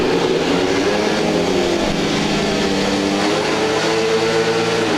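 Speedway motorcycles lining up for a heat at a Belle Vue Aces versus King's Lynn Stars meeting, a loud continuous engine roar with rising and falling revs, close and dense.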